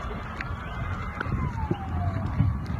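Emergency vehicle sirens wail from a distance as responders arrive at a crashed airplane, a faint rising-and-falling tone sweeping under steady rumbling background noise.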